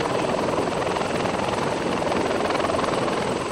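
Arma military video game helicopter in a JSOC operation, a loud continuous rotor whir with a pulsing beat, close and steady for the whole stretch with no talk over it.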